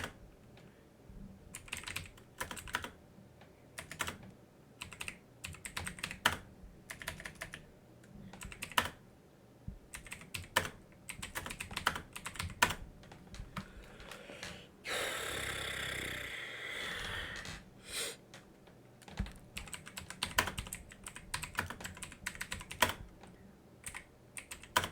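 Steady typing on a computer keyboard, close-up clusters of clicky keystrokes that come in irregular bursts for the whole stretch, with one brief louder rustling noise about midway.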